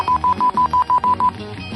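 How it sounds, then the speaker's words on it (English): A run of eight short, evenly spaced electronic telephone beeps, like dial tones, sounds loud and clear over a low background rumble in a 1970s comedy sketch. "Gee, Wonder Man, it's the Wonder Phone!"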